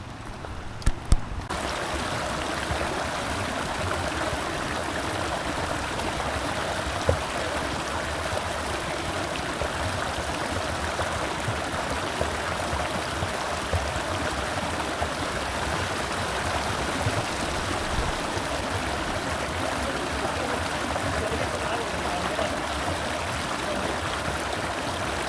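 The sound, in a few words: small clear sulfurous river flowing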